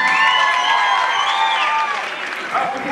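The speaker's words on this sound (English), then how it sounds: "Round of applause for that fight, ladies and gentlemen." Crowd at a Muay Thai event clapping and cheering after a fight, loud sustained applause with voices and whoops mixed in, easing slightly near the end.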